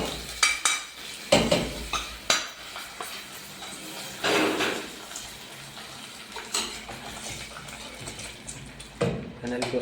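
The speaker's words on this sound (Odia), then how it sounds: "ଫାଇନାଲି ଯେଉଁ ଛୁଙ୍କ ଦିଆଯାଇଥିଲା ସେ ପଡ଼ିଗଲା।" Hot tempering (chhunk) is poured into dahi baigan, yogurt eggplant, in a hostel mess kitchen, giving short bursts of sizzling mixed with clattering pots and utensils while people talk nearby.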